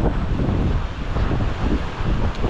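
Steady wind rushing and buffeting across a microphone on an island, a continuous broad roar with gusty swells and no voices.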